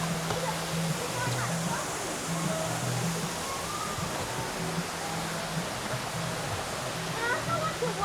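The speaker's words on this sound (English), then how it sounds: "And I also want the waterfall right here." Steady rushing water from a waterfall beside a quiet trail at Disney's Animal Kingdom, a constant broadband roar throughout with voices talking over it.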